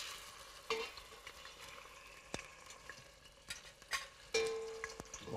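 Chunks of mutton frying in ghee in a pan, giving a steady close sizzle with occasional scrapes and clinks of stirring; no one speaks.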